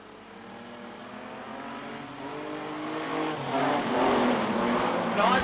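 Junior sedan race cars starting a heat at Kingaroy Speedway, Queensland: a pack of engines roars and revs steadily louder as the field gets away, a continuous dense mechanical drone.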